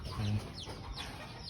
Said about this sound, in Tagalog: may maliit pa na manok dito